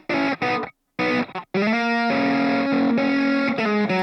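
Distorted electric guitar chords pushed through a tube screamer overdrive and a roomy Chrome Reverb plugin, loud and sustained with brief gaps between strums and a ringing tail.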